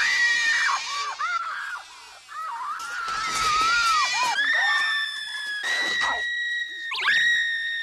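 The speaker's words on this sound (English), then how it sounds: "she spends the first half of the movie just screaming and complaining about everything" A woman's shrill, sustained screams in an Indiana Jones movie scene, several long piercing cries rising and falling in pitch, loud and close, alone without talk.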